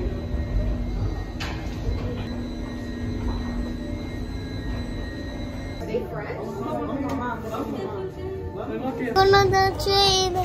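Rumbling interior of a moving train with rail noise and mechanical whines, people talking over it and a bright chiming tone near the end.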